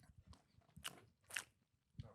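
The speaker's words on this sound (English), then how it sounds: "Damn, the chewing." Loud crunchy biting and chewing of food close to the microphone, a few sharp crunches standing out over quieter mouth sounds.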